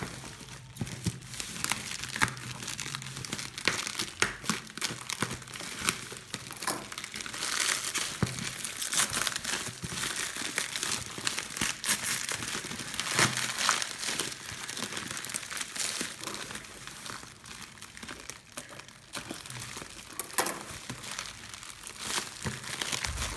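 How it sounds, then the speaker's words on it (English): Packaging of a D-Link DIR-841 router crinkles and rustles continuously during unboxing, dense crackling plastic and cardboard handling close up with no pause. "today I'll be unboxing the D-Link JR841"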